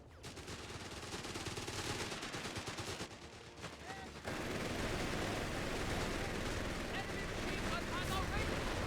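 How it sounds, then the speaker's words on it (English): Machine guns fire continuously in the World War II strategy game Company of Heroes during a 2v2 tournament match, with dense rapid bursts, explosions and battle noise filling the scene, loud and sustained, with a brief quieter gap midway. "these cloak machine guns doing a world of damage on these guys"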